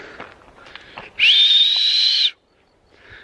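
A single sustained whistle, loud and close, rises slightly at the start and holds for about a second before stopping.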